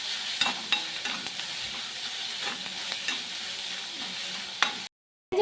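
Onions sautéing with salt in a pan for an egg thoran, a steady close sizzle with repeated stirring scrapes and spoon taps throughout, no voices, ending in a brief cut to silence.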